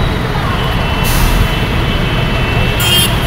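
Low idling engine rumble of a white sleeper bus parked at a crowded bus stand, with brief hissing bursts like air brakes and faint background voices.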